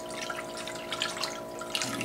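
Water poured from a canister into a peach cobbler mixture, a steady close trickle with small splashy drips throughout.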